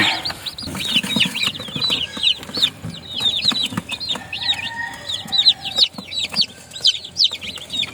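Backyard chicks peep and cluck busily close by, a dense chorus of quick high chirps and soft clucks that keeps overlapping without pause, with a few faint knocks in the background.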